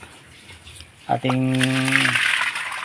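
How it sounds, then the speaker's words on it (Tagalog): Water pours steadily into a tank being refilled after draining, a continuous gushing hiss that runs through the clip while someone speaks briefly over it. "tapos na tayong mag-drain ng tubig at atin ang nilalagyan uli ng tubig"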